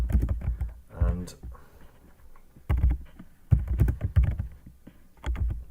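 Rapid bursts of keystrokes on a computer keyboard, clustered into several quick typing runs separated by short pauses, close and fairly loud.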